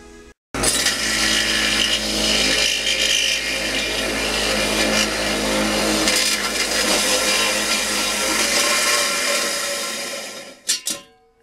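A power drill bores a hole during work on an auxiliary gas tank, a loud steady whirring motor that runs nearly continuously for about ten seconds, then winds down with a couple of short bursts.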